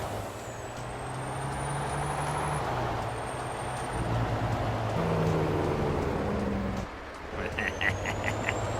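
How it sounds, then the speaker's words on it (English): A Cummins-powered truck's Jake brake in Farming Simulator 22 barks in a loud, rapid rattling drone that rises and falls, followed by brief chirping beeps near the end. "Listen to that Jake brake."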